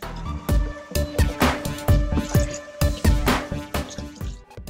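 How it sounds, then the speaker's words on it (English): Running water rinses a salt- and sugar-cured pork belly in steady, rapid drips and splashes, close and clear with no other sound. "the next step is gonna be to rinse off our pork belly so that we can get rid of any of the excess"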